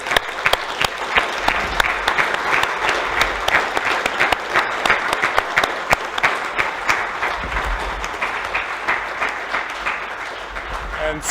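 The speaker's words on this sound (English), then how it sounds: "give a round of applause to the PMI team" Audience at a partners' annual meeting stands and applauds the PMI team, a dense, sustained roar of many hands clapping with sharp claps peaking throughout, steady and loud across the whole stretch.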